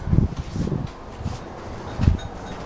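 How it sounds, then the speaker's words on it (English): A strong but gentle breeze blows outdoors, a steady low rush with a few louder gusts and soft rustling, fairly close to the microphone and with no voices. "it's a very powerful breeze, as you can see, but it's not unpleasant"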